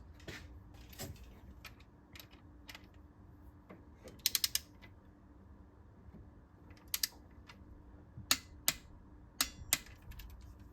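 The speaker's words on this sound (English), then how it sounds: "We're gonna torque to 250 inch-pounds or our 20" A torque wrench tightens timing chain bolts on a 2003 Jeep Liberty 3.7L engine, giving faint scattered ratcheting clicks and a few sharp louder clicks against a quiet workshop background, with no talking.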